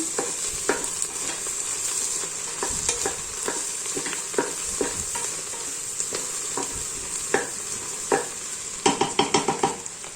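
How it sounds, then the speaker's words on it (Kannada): Chopped vegetables, onion and peas for veg pulao fry in a pan, giving a constant close sizzle while a spoon stirs and scrapes with soft irregular knocks, ending in a quick run of louder scrapes. "ತರಕಾರಿ ಎಲ್ಲ, ಈರುಳ್ಳಿ ಎಲ್ಲದೂ ನೀಟಾಗಿ ಫ್ರೈ ಆಗಬೇಕು."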